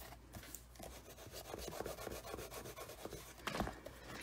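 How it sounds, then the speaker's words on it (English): Adhesive sheet burnished by hand over vellum, a quiet close rubbing and scraping in quick irregular strokes. "I'm just going to burnish the adhesive sheet before I peel it."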